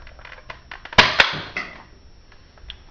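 A Nerf Maverick toy blaster being modded fires with two sharp, close plastic snaps in quick succession, followed by a fainter clack, with no talking over them.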